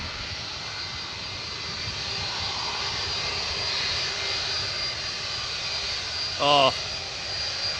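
FedEx Boeing 757 with Rolls-Royce engines, a steady loud jet roar with a high whine in open air, and someone briefly speaks near the end.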